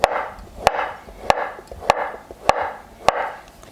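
A knife chops through pound cake on a board in a home kitchen, six sharp, evenly spaced thuds close by, with no talking.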